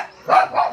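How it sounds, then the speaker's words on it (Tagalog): A dog barks twice in quick succession, close and fairly loud, two short yelping barks with no talk over them. "may aso po"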